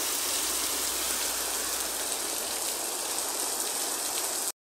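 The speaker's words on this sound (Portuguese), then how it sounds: "E tome chuva, e tome chuva." A dense, unbroken roar of heavy rain drums on surfaces in Dizimeiro, Camocim, Ceará, loud and close, ending abruptly in silence.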